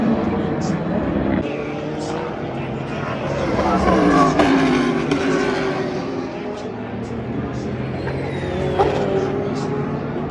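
Race cars roar past at the Rolex 24 at Daytona endurance race, a continuous engine drone with rising and falling pass-bys while a commentator talks over it.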